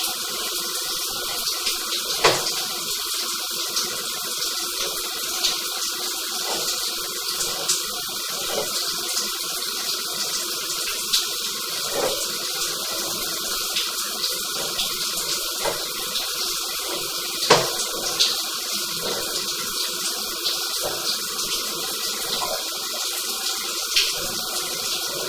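Water runs through a sewer line with a sag and debris, heard during a camera inspection as a steady close rushing flow with occasional small knocks and splashes. There is no talk.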